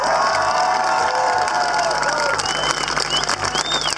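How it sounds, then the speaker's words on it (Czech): An audience at an Easter passion play in Česká Lípa applauds, a continuous wash of clapping from the crowd with a few faint tonal sounds mixed in. "Takže potlesk i pro tento úžasný jemný zpěv."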